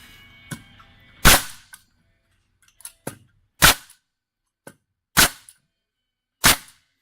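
A Hitachi NR65AK2 pneumatic framing nailer, its magazine removed, test-fired six times at irregular intervals, each a sharp loud crack with an air hiss, alongside a few fainter mechanical clicks and no speech.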